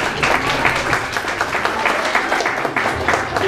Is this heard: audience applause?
yes